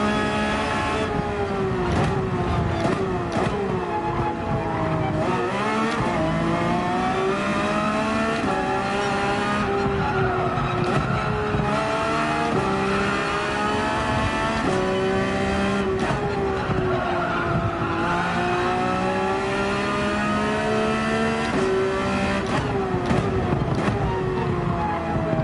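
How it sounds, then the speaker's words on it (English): A V8 Lexus race car in Gran Turismo 7 at Laguna Seca roars steadily throughout, its engine pitch sweeping up and down through gear changes, with loud tire squeal and skidding under continuous revving. "Oh, and it is Bren in a V8 Lexus. That thing's got great sound to it."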